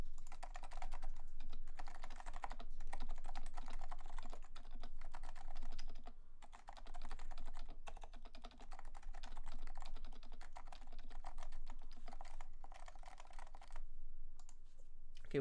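Continuous typing on a Leopold FC660C silent Topre keyboard, soft muted keystrokes in quick irregular runs with brief pauses, close and steady for the whole stretch with no talk.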